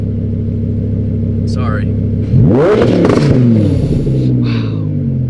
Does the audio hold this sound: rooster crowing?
no